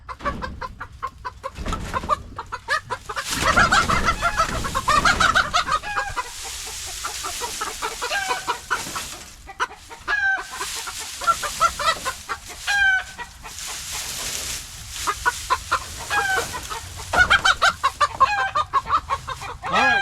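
Silkie chickens cluck repeatedly and loudly up close in an outdoor pen, with bursts of overlapping calls and occasional short squawks throughout.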